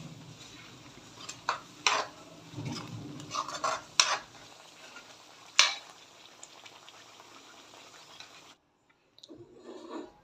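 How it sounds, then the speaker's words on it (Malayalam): Curd being stirred into potato curry in a pan for Punjabi dum aloo, with a spoon scraping and clinking against the metal over a steady bubbling simmer, then a brief quiet. "അതിനുശേഷം കുറച്ച് തൈര് ചേർത്ത് നന്നായി മിക്സ് ചെയ്യുക."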